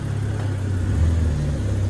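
A BMW 328i engine idling and rumbling loudly up close while reverse gear is tried, a steady low drone with a slight swell midway.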